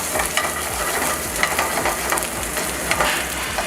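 Carrot, cauliflower and garlic sautéing in a pan make a dense, steady sizzle with soft stirring scrapes, loud and close, and no one talks.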